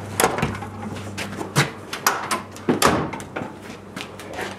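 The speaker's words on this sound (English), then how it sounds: "Still sounds great shutting the door." A 1947 Studebaker pickup with a three-speed manual and overdrive has its door shut several times in a row, each close a sharp, near, solid clunk with short pauses between, and no talk over it.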